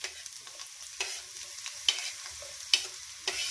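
Half an onion fries quietly in a small amount of desi ghee for green moong dal, with a soft sizzle and a series of separate spatula scrapes spaced through the clip.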